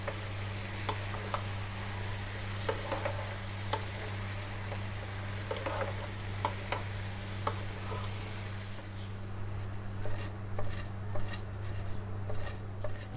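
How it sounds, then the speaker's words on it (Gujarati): Patra pieces are stirred through a sizzling tempering in a pan, a soft steady fry with scattered scraping ticks of the spatula over a low stove hum, growing a little clattery toward the end. "વઘાર સાથે મિક્સ કરી લઈશું."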